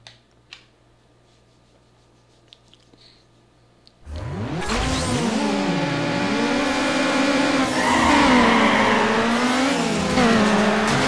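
Race cars in Need for Speed Underground, including an Acura RSX and a Golf GTI, roaring to life after quiet clicks, engines revving and climbing through gears loudly with rising and falling pitch.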